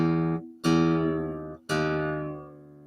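A guitar string being tuned down to drop D, plucked three times with each note ringing and decaying while the pitch shifts slightly, close and clear with no speech.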